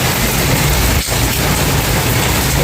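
Sudden rain falling outside a house: a loud, dense, steady hiss of rainfall close by that fills the whole clip, with no voices.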